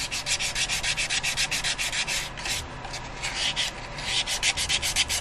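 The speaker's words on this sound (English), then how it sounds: "there is a lot of hand sanding that goes into it" Rapid, rhythmic rasping strokes of sandpaper rubbing against a wood-turned hollowform, close and steady, pausing briefly midway before resuming at the same brisk pace.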